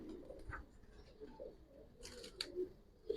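A Giribaz pigeon of the Palla line coos softly in a loft, a faint, low, quiet call repeated over a few seconds with no talking.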